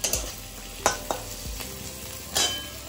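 Onions fry with whole garam masala in hot oil, a steady close sizzle broken by a few sharp stirring clatters of a utensil against the pan, with no voices.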